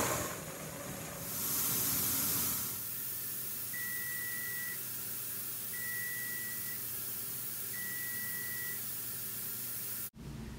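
Steam vents steadily from a pressure canner's vent pipe, a continuous soft hiss with a louder rush early on, accompanied by three evenly spaced electronic beeps.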